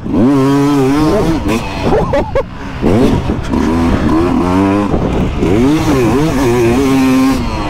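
A Sherco 300 dirt bike engine revs hard and close, the pitch rising and falling repeatedly in loud, rasping bursts with short crackling drops between throttle blips.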